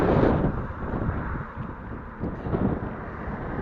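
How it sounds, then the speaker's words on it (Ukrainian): Steady, rumbling wind buffeting the microphone on a bicycle ride outside the city, loud and continuous with gusty swells throughout, no voices. "Погода, правда, вітряна."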